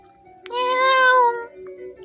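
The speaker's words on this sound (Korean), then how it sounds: "고양이가 내 종아리에 몸을 비벼댔다." A tricolor calico cat gives one clear, drawn-out meow, close and loud against a quiet background.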